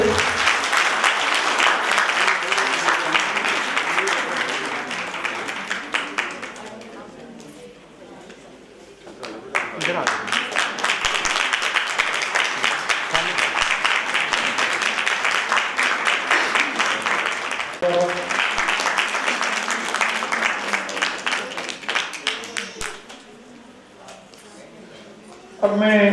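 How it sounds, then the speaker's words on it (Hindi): A large audience at a university convocation claps loudly and steadily for a graduate receiving a degree. The applause dips briefly midway, then swells again, and an announcer speaks over it. "तालियां हो जाए सचिन के लिए जोर से"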